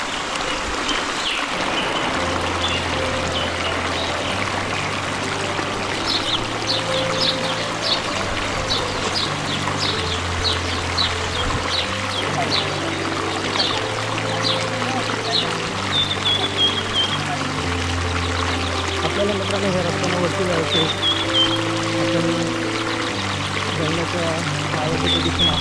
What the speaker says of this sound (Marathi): हा आपल्याला ओढा आहे, त्या ओढ्यातून आपल्याला पुढे जायचं।